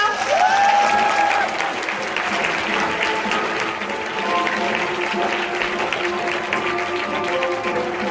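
An audience at a seminar applauds to welcome a speaker to the stage, a full and even wash of clapping from many people that continues steadily throughout, with a brief tone or voice sounding at the start.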